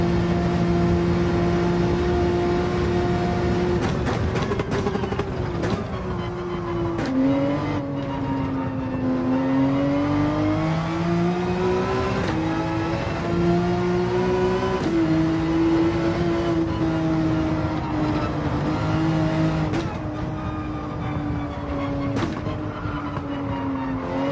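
A car engine revs and shifts through the gears during an online Gran Turismo 7 race, its pitch climbing and dropping in a steady loud drone with faint tire and track noise beneath.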